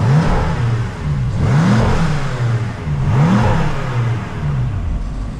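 A stage 2 tuned BMW F10 M5 engine revs up and down repeatedly, loud and close, with rising and falling engine pitch and no voices.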